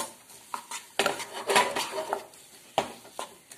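Onions being stirred in a pan on high flame with leftover pav bhaji mixture, a spoon scraping and clinking against the metal in a few sharp knocks, with only faint sizzling underneath.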